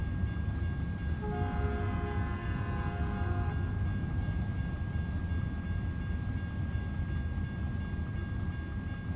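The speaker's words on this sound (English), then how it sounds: "Oh, we had 2 trains coming." In American Truck Simulator, a train rumbles past with a steady, heavy roar as its horn sounds a sustained chord for a couple of seconds, loud and continuous, with no talking.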